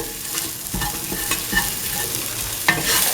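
A spoon stirring beef and ash gourd stew in coconut milk in a pan, with soft sizzling underneath and irregular scraping strokes and clinks scattered through the stirring.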